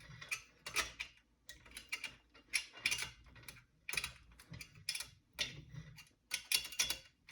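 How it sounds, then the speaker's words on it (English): A spoke wrench tightens the spokes of a motorcycle's spoked wheel during truing, heard as a steady series of small, close metallic clicks and ticks in short bursts, with no talking. "just start tightening the spokes"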